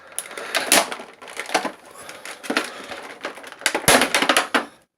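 Big household scissors cut through plastic toy packaging in a series of sharp, crunching snips and crackles, irregular and close, with quieter rustling between the cuts.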